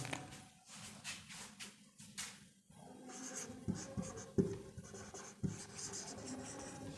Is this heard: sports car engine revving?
no